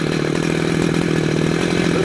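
A Husqvarna chainsaw with an older chain runs steadily while cutting a tree on an organic farm, a loud continuous buzzing engine drone held close throughout with no pauses.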